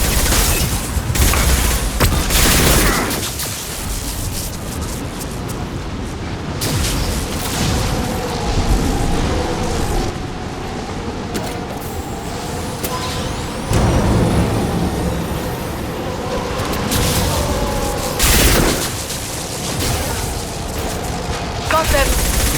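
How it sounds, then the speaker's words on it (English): Flashbang blasts and bursts of gunfire in a Mass Effect 2 combat scene, with repeated loud booms and rapid shot clusters over a dense battle backdrop, spread across the whole stretch. "Watch out, flashbangs!"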